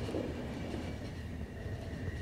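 Steady train rumble from The Final Station video game, a continuous low rolling drone with faint rhythmic clatter and a thin high whine, moderately quiet and heard without talk.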